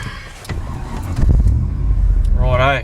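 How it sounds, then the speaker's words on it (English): A Holden VN V8 car engine revs up loud and close, its low rumble building through the second half, with a brief voice over it near the end. "Like that's revving properly."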